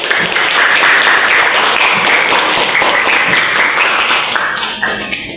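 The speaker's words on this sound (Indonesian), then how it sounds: "Oke, tepuk tangan dulu dong" A classroom group applauds, with dense, steady clapping that keeps a bright, even level for several seconds before it thins out and fades at the end.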